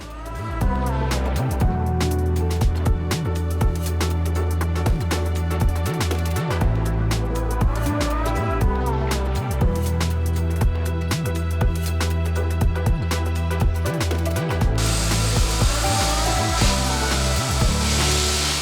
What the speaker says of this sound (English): you can get a vacuum cleaner that's like good for water and gravel and aquascape